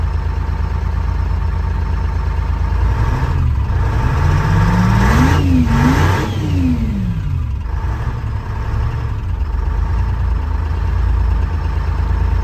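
An old truck's big engine idles, then revs up twice in a rising-and-falling roar before settling back to a steady low rumble, close and loud.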